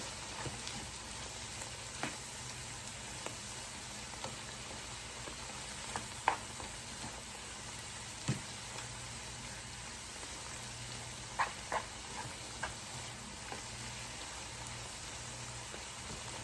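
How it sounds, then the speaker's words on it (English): Onions and mushrooms frying in a pan for chili give a steady, quiet sizzle and crackle, with scattered soft pops and small clicks; no one speaks over it. "So let's let this cook up. Now, as you can see, my onions and mushrooms are done."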